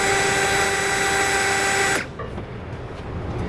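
A power drill with a 9/16 bit bores a hole for a trailer hitch install on a 2018 Ram 3500, a loud, steady high whine for two seconds before it stops and quieter handling noise follows.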